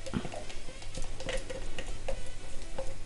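Sliced onions and bell peppers sizzle softly in a sauté pan, a faint steady crackle with small ticks and occasional scraping as they are stirred.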